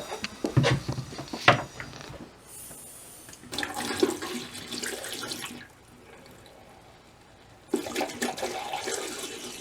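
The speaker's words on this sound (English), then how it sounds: "Now I'm going to pour some into the sink." Liquid pours into a sink while winterizing a cottage, splashing and gurgling in bursts separated by short quiet gaps, close and fairly loud.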